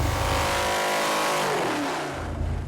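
A junkyard Cadillac 500 big block V8 roars at full throttle on an engine dyno, a loud sustained rev that climbs steadily in pitch toward its limit, then eases off.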